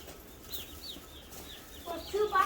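Tiny straight-run chicks peep softly in a brooder, thin high chirps scattered across the moment and growing a little busier toward the end, with no talk over them.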